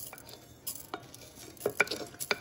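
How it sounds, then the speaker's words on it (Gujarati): Spices hitting hot oil for a tempering crackle and pop in short, irregular bursts over a quiet sizzle, heard close and fairly soft for a couple of seconds. "તેલ ગરમ થાય પછી એનો વઘાર કરીશું."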